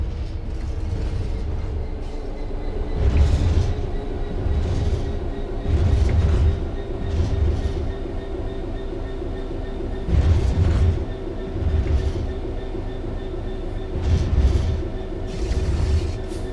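A train in Train Simulator World 3 coasts on level ground with steady rumble and rhythmic clickety-clack bursts every couple of seconds, loud and close, with a faint sustained tone.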